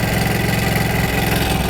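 A motorcycle engine runs at high idle while its air/fuel mixture screw is adjusted, a loud, close, steady chugging drone with rapid even pulses and no speech.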